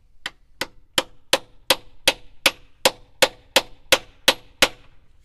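A hammer strikes a 3/8 socket onto a valve cover bolt on a BMW E39/E46/E53 engine, thirteen sharp metallic taps in a steady, slightly quickening rhythm, close and clear with no talking.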